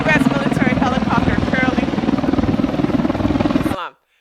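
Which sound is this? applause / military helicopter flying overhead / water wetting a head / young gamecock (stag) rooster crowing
military helicopter flying overhead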